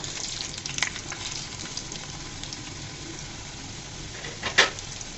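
Thin potato slices fry quietly in a pan with a soft steady sizzle, and there are a couple of brief clatters as they are turned.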